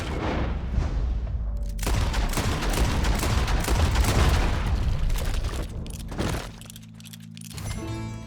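Rapid, loud gunfire in Red Dead Redemption 2, a dense fusillade of overlapping shots and booms running for about six seconds before thinning into a couple of quieter trailing reports.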